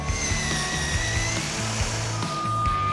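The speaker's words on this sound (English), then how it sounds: "The timber cutting and drilling machine." A 4-axis CNC timber cutting and drilling machine for making playground parts runs with a loud, continuous mechanical whine, steady motor hum and periodic knocking pulses as it works the timber.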